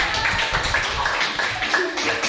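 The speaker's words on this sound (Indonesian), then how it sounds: "berikan tepuk tangan" A classroom of students breaks into scattered, fairly loud applause, uneven rhythmic claps filling the room for a couple of seconds with a murmur of voices mixed underneath.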